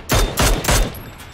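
Three quick, sharp gunshots from the PUBG battle royale video game burst in a rapid series, loud and close, with no talk over them.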